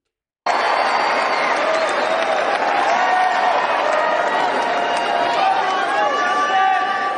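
A crowd applauds and cheers in a large room during an executive order signing event, loud sustained clapping with chatter mixed in that starts abruptly and carries on steadily.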